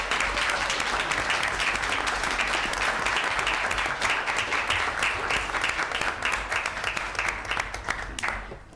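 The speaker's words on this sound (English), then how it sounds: "so we could give you one more round of applause" Steady audience applause fills a city council meeting chamber in Waukegan, a dense crowd of clapping hands at even loudness throughout that cuts off sharply at the very end.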